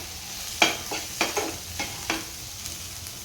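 Tomato, chili and raw mango frying in a pan: soft, faint sizzling under a handful of quick spatula scrapes and stirs spaced through a short moment, with no voices.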